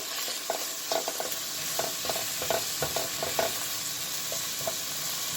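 Vegetables for Puerto Rican stewed cod are stirred in a pot over a steady sizzle, the spoon making a series of close, rhythmic scraping knocks, with no talking.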